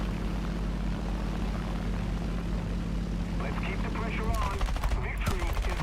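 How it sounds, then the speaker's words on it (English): Aircraft guns firing in the War Thunder game during an air battle, a steady engine drone first, then a rapid rattling burst of gunfire near the end. "Did I shoot the tree down?"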